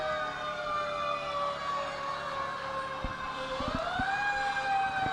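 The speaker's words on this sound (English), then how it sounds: "let you all listen to the sirens of the various first responders" Several first-responder sirens wail together at the 2021 Old Canal Days Parade, steady tones with one rising sweep, over a constant outdoor rumble and a few low thumps.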